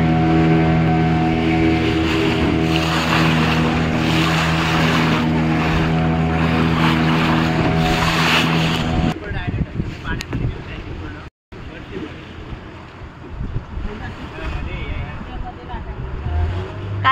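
Motor boat running on the sea on a trip near Malvan, a loud steady engine drone with wind buffeting the microphone, then a rougher choppier stretch after a brief cutout.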